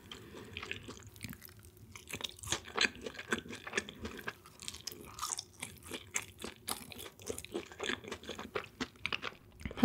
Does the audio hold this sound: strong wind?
no